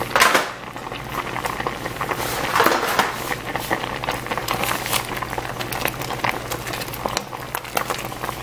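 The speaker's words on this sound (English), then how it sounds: "these are boiling pretty good" Steady rolling boil of smoked tomatoes in a pot, dense bubbling and popping close by with a low constant hum underneath.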